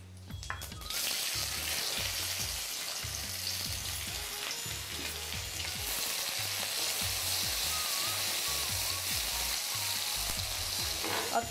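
Onion fries in hot oil with a loud, dense, steady sizzle and crackle, close up, while a low repeating thump pulses underneath throughout.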